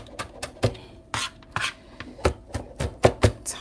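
A knife chops a handful of fresh parsley on a board, quick irregular taps close up, a dozen or so sharp strikes with short gaps, no speech.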